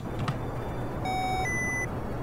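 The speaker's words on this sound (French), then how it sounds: "l'alarme nous prévient qu'on n'a plus de fuel" Electronic warning tones from the low fuel alarm in the Kerbal Space Program video game: steady sustained beeps that shift pitch once partway through, sounding over a low rumbling engine background.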